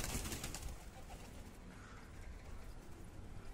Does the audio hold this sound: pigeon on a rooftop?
yes